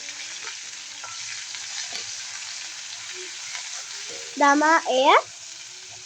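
Garlic, curry leaves and rampe fry in oil, a continuous close sizzle and crackle running throughout, with a brief spoken phrase near the end over the frying.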